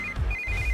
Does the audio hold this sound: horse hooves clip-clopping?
no